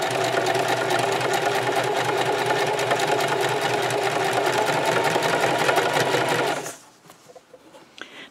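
A sewing machine stitches and backstitches a scrub cap seam with a steady, close, fast whir lasting several seconds, then stops abruptly, leaving faint handling sounds.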